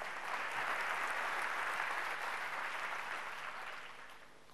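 Applause from a church congregation fills the space, a dense, steady patter of many hands clapping that swells early and then gradually fades toward the end, with no voices over it.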